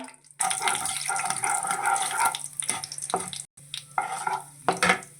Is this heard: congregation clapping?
no